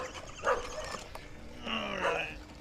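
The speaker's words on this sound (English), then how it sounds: "Yeah, doggy." A dog gives a couple of faint, short barks and yips, spaced apart against quiet background noise.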